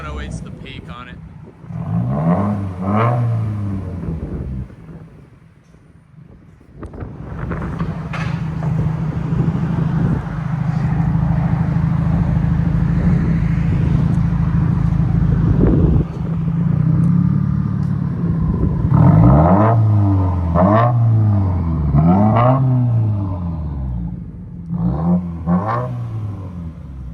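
A 2017 Subaru WRX with its 2.0L turbo running straight-pipe exhaust (mid and rear delete) revs loudly and close, rising and falling in repeated rumbling pulls with a steady, heavy idle between bursts.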